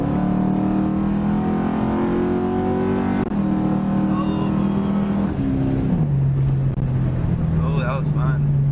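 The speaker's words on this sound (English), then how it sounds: "So let's give it a little gas." A 2004 Ford Mustang GT fitted with a Roadrunner stall converter and a shift kit revs and pulls hard, loud and close, its engine note climbing, dropping at a shift, then settling into a lower steady drone.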